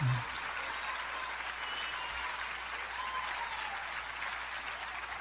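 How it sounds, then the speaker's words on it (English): Sustained applause from a packed hall of women at the Marriott in Philadelphia, a standing ovation of steady dense clapping that holds evenly throughout, loud and full, with no speech over it. "Got a standing O from that crowd of women, a packed hall at the Marriott in Philadelphia."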